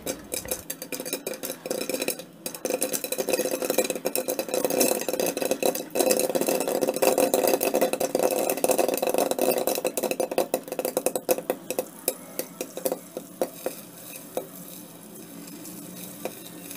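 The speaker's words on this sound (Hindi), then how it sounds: "और जैसे ही दाना खुलना स्टार्ट हो जाएगा पॉपकॉर्न बनना शुरू हो जाएगा" Dense, rapid popping and crackling of popcorn from fresh corn kernels inside a covered pan, a steady rattling patter that continues throughout, slightly thinning toward the end.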